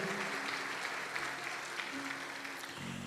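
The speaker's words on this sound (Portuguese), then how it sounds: "pode aplaudir o Senhor" A church congregation applauds during a sermon, a steady wash of clapping held at moderate level with a faint underlying hum throughout.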